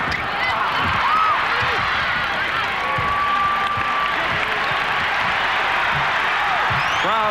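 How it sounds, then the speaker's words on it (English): A basketball arena crowd at the Palace of Auburn Hills roars to urge on the Pistons against the Bulls in a playoff game, a dense, sustained cheer with scattered whistles and shouts. "Crowd looking to urge the Pistons on."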